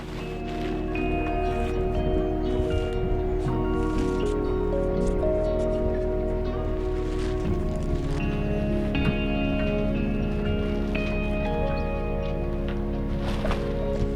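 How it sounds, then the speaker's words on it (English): Hail pelting a boat deck and coach roof outdoors in a UK winter, a loud continuous dense patter of hard hits with steady intensity throughout and some faint tonal sounds beneath. "Hailstorm."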